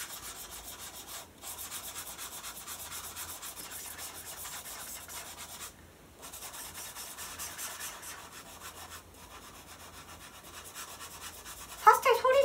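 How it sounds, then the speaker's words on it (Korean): Pastel rubs back and forth across paper in a close, continuous scratchy swish, with brief pauses between strokes and a sharper, louder scrape at the end. "파스텔 소리가 되게 기분이 좋지 않나요?"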